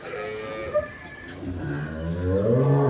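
A dairy cow yielding 16 litres of milk on a farm in Munshiganj lets out low moos, a short one early and a longer, rising call at the end, with faint background noise.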